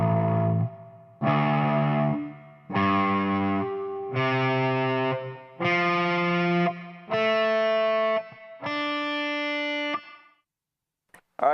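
Heavily distorted electric guitar plays a slow riff in a low alternate tuning, seven chunky sustained chords in even succession with short gaps between them, loud and alone, then a sharp click at the end.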